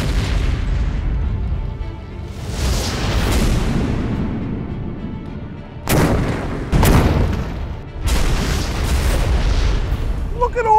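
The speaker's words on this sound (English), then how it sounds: "I'm gonna blast holes in that boat with this cannon" Several loud cannon blasts boom out, each with a sharp crack and rumbling decay, the last few coming in quick succession as they blast holes in a boat.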